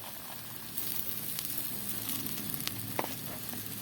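Steady sizzling of a dhaba-style egg curry with kasuri methi frying in a pan, as fried eggs go in and are stirred, with light scraping ticks scattered over the constant close, fairly loud crackle.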